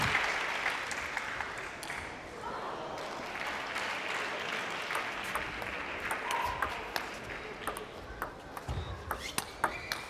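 Audience applause at a women's singles quarterfinal of the 2013 Korea Open table tennis tournament, steady clapping from a crowd in the hall punctuated by sharp ball pings, with a commentator's voice faintly under it.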